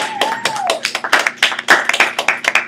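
Scattered applause, a handful of close, sharp claps and taps in an uneven rhythm, fairly loud with brief gaps between them.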